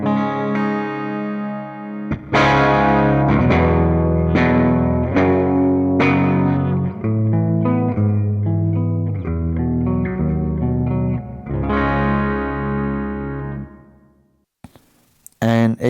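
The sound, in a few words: electric guitar through Donner Hush X Pro preset with reverb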